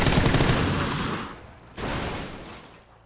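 Dense, loud gunfire in PUBG on the Erangel map, a continuous roar of shots that eases briefly and then surges again with another burst.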